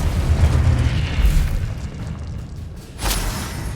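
A Confringo explosive spell from the Hogwarts Legacy video game goes off as a loud, booming blast with a rumbling low tail. A second, sharper burst follows near the end.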